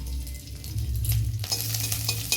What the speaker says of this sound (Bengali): আদা পাঁচফোড়নটা বেশ কিছুক্ষণ আমি ভেজে নিলাম